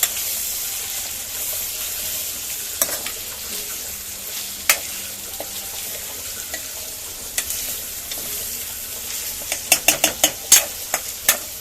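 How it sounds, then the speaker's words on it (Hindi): Beef and ginger sizzle steadily in a karahi, a constant frying hiss broken by sharp scraping and clanking strokes of a spoon stirring the meat, the strokes growing more frequent toward the end. "थोड़ा ये अदरक भी भून लें इस गोश्त के साथ।"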